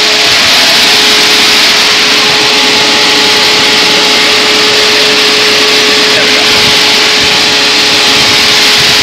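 Electric engine cooling fan for a BMW engine swap running at maximum speed, a loud steady whooshing roar with a constant motor whine throughout, close and unbroken, no talk.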